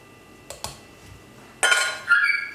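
Metal clinks as a paddle attachment is fitted onto a stand mixer for ciabatta dough: two small taps, then a brighter clatter and a ringing clink, close and without talk.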